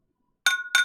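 Two bright, ringing clinks of drinking glasses touched together in a toast, close and crisp, the second following about a quarter second after the first, after near silence.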